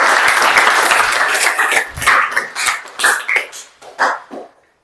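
An audience claps in a classroom after a presentation, starting as a dense burst and then breaking into scattered claps that fade out.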